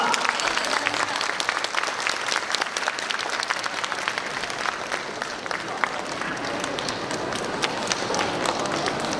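An audience at a live outdoor mall concert by a young singer applauds, a dense and steady burst of clapping from a crowd that fills the whole stretch at an even, close level.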